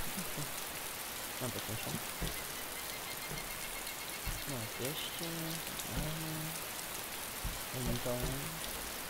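Steady drizzling rain patters continuously in the survival video game DayZ, a soft, even hiss beneath someone talking casually over it.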